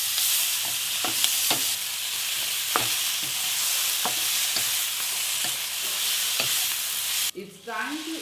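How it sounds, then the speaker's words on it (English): Mustard seed paste fries and hisses steadily in a pan for a catla fish curry with radish, while a spatula scrapes at irregular intervals; the sizzle drops away near the end. "Stir them well and cook it for a minute."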